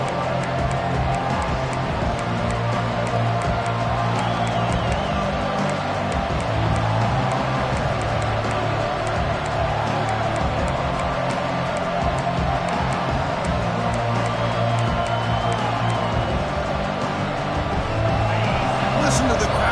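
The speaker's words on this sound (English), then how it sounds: "Listen to the crowd energy here in the early going" College football stadium crowd roars steadily throughout the early going of a game, a dense, continuous din beneath nearly constant play-by-play commentary.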